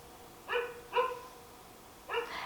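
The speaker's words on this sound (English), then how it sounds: "Excuse the dog barking" A dog barks indoors, three sharp separate barks, the first two close together and the third after a pause, fairly near and clear.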